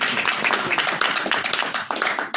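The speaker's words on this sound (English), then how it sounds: "please another applause for Dr. Lina" Audience clapping for a guest, Dr. Lina, at an event, dense irregular hand claps filling the room at steady volume with a brief voice or two underneath.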